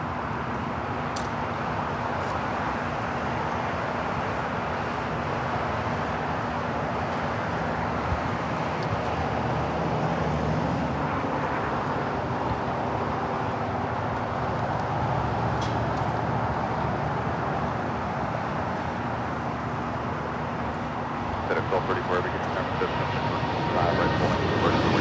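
A jet airliner takes off at Los Angeles International Airport with a loud, sustained roar that stays steady and broad. Voices talk over it.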